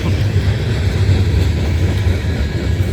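A CSX freight train rolls slowly past a level crossing in Kingston, Georgia, producing a loud, continuous low rumble of wheels and cars, close and steady throughout with no talking.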